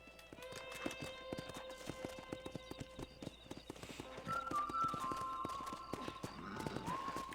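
Horse hooves clip-clop in a steady trotting rhythm inside Red Dead Redemption, loud and close, with layered ambient music tones running underneath and a brief whinny-like sound partway through.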